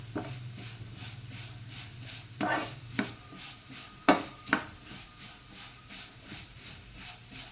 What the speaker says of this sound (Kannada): ಜೀರಿಗೆ ಎಲ್ಲ ಚೆನ್ನಾಗಿ ಹುರಿಯಬೇಕು, ಕಪ್ಪಾಗಬಾರದು.